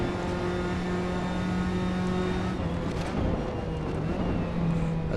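A race car engine in the driving game Assetto Corsa drones at a steady pitch with a strong tonal whine, shifting slightly as the revs change partway through, continuous and loud with no speech.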